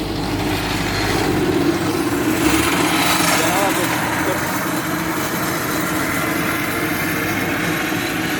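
A tractor engine runs steadily during hay mowing in a field, a close, continuous mechanical drone with a low rumble that holds at even loudness throughout.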